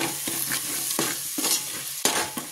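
Cooked mashed vegetables go into a pan of pav bhaji masala of tomato, onion, ginger-garlic paste, red chili powder and kasuri methi, with close sizzling and repeated stirring scrapes, no voices.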